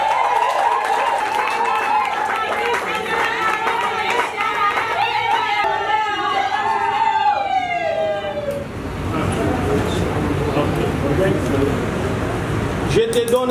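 Wedding guests in Bujumbura, Burundi applaud a ring exchange: high wavering calls ring out first, then a dense, sustained burst of clapping fills the rest of the clip.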